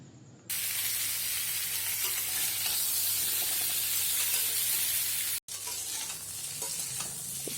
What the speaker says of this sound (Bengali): এরপর কড়াইতে তেল দিয়ে পটল আর আলু আগে থেকে কেটে রেখেছিলাম, সেগুলো হলুদ আর লবণ দিয়ে ভেজে নেব।